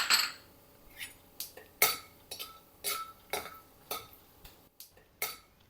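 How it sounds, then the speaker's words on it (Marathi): Raw peanuts roasting in oil with asafoetida over a low flame, a utensil scraping and clinking against the pan in about ten rhythmic strokes, fairly quiet and close, with no talking. "आता आपण टाकणार आहोत कच्चे शेंगदाणे आणि छान परतून घेणार आहोत"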